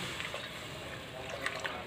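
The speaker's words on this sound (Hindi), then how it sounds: "ये चला गया इसमें पानी" Water poured from a glass into chana dal cooking in a pan gives a steady, soft splashing hiss with a few small drips and plops near the end, fairly quiet and close.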